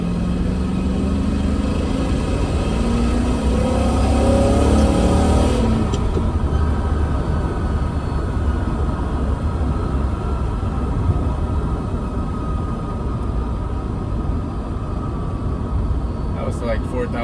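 A manual-swapped Mercedes E420 V8 revs up to about 4,000 RPM in second gear while cruising, the engine note climbing steadily for several seconds before dropping back to a low, even drone of road and cabin noise.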